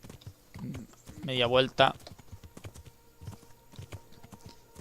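Horse hooves clip-clop at a steady walking pace in the medieval game Kingdom Come Deliverance, with soft, close, repeated thuds that run under a man's speech.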